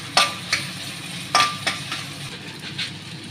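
Ginger garlic paste fries in a pan for prawn gongura, a steady low sizzle broken by several sharp scrapes and clinks of a utensil stirring against the pan, close and without talk.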